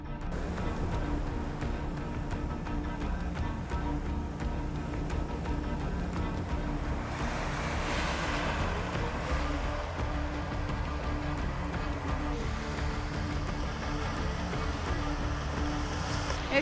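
Steady ocean surf at Unstad beach in northern Norway, continuous washing waves mixed with wind rumble throughout, no distinct individual breakers standing out.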